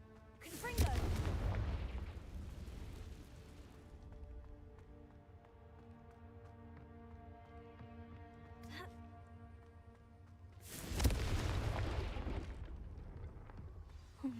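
The Confringo fire spell in Hogwarts Legacy lets off two loud booming blasts about ten seconds apart, each with a rumbling tail, over quieter game ambience.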